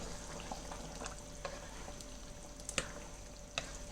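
Beef rendang is stirred while it cooks, a faint bubbling sizzle broken by light clicks and scrapes of a spoon against the pot, quiet and fairly close.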